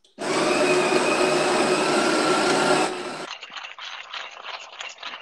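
An electric coffee grinder grinds beans for Aeropress coffee, loud and close, a harsh whirring roar that drops to a thinner rattling grind as it nears the end.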